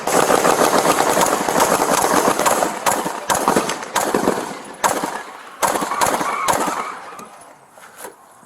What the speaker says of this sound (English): we got a man with an AK-47. He's shooting at us.